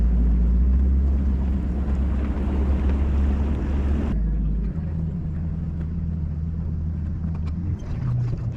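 A fishing boat's outboard motor at idle drones low and steady under a bridge, loud and close at a lake tournament, the tone shifting partway through as the throttle or wind changes, with no voices.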